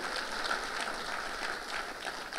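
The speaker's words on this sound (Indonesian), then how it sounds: "Kita kasih tepuk tangannya yang meriah buat Tuhan kita" A church congregation applauds for God during a sermon, a steady, dense wash of clapping from many hands sustained throughout without a break.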